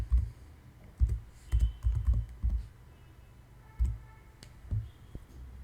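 Code is typed on a computer keyboard in short, dull, thumping bursts of keystrokes with pauses between them, close and moderately loud over a faint background hiss.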